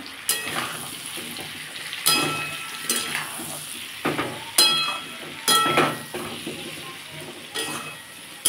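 Ground cumin, half a spoon of chili powder and turmeric fry in a pan for a pumpkin and potato chhakka. A soft steady sizzle runs under repeated scraping stirs of a spoon against the metal, with short pauses between them.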